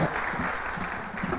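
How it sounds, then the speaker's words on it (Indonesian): A short burst of steady clapping from a church congregation, a dense continuous patter at moderate level with no talk. "Ya boleh beri tepuk tangan."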